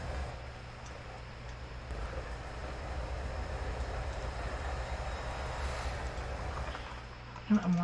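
Moving train in the Trainz 2022 simulator: a steady low rolling rumble with faint rhythmic ticking from the wheels, running continuously under light background sound, with a short bump near the end.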